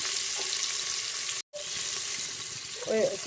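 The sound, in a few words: onion frying in hot coconut oil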